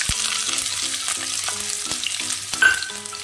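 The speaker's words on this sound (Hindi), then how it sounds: "अब इसमें हरी मिर्च और 1 चम्मच क्रश किया हुआ अदरक डालेंगे" Green chilli and crushed ginger sizzle in a hot cumin and red chilli tempering for chana masala, with steady close frying hiss, repeated spoon scrapes and stirs, and a sharp clink near the end.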